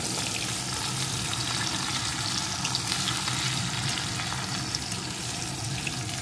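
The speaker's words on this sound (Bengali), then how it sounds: "পেঁয়াজ কুচিটা একটু ভেজে নেব।" Chopped onion fries in hot oil with whole spices, giving a steady, close, loud sizzle that holds evenly throughout with no talking.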